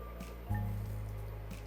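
Pancake batter for banana pancakes is ladled into a pan, landing with a soft wet squish and a brief liquid pour, followed by a steady low sizzle-like hum, close and moderately quiet.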